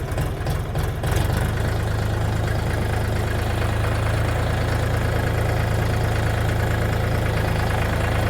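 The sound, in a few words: mini tractor engine running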